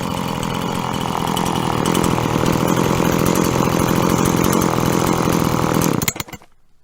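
Husqvarna 345 chainsaw engine running at steady high revs, loud and close, buzzing continuously for about six seconds before being shut off and dying away.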